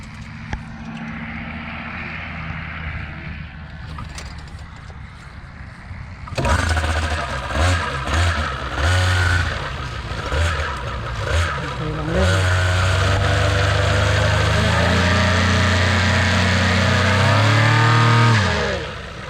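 A small paramotor engine sputters, then roars to life and runs loudly, revving up and down steadily and droning until the end.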